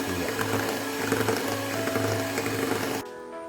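A hand mixer buzzes loudly for a few seconds while vanilla essence is beaten into cupcake batter, then stops suddenly, leaving faint background sound.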